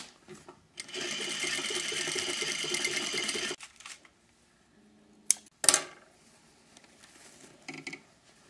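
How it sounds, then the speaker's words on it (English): A sewing machine runs in one close, steady whirring burst of about three seconds while stitching a dress into a skirt, followed by quiet, then a few sharp clicks and light handling knocks. "I'm now going to sew it together."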